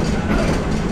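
Heritage train at Greenfield Village at The Henry Ford, Detroit, rumbling along steadily with a loud, continuous low-frequency roll and rail noise, no talk.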